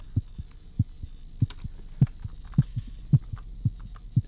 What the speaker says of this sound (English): Is that a heartbeat? That is definitely a heartbeat.